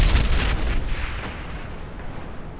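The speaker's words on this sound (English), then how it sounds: "the explosion blew out the boarded-up doors and windows of the bottom floor" A large explosion tearing out the boarded-up doors and windows on a building's ground floor, a dense roaring blast with heavy low rumble that slowly decays, alone with no voices.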